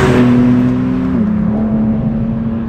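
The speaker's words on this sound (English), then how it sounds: "the engine at the moment now is in the Sport Plus mode" A BMW M car's engine in Sport Plus mode hums steadily from inside the cabin, a loud, smooth drone whose pitch steps down slightly partway through, with no talk.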